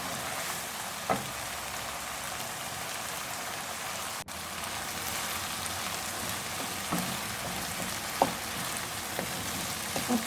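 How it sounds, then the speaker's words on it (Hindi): Peas and green chilies fry in a pan for pulao, giving a steady, even hiss with a few faint clinks and stirring taps scattered through it. "मटरों के साथ इस तरह से फ्राई करूँगी।"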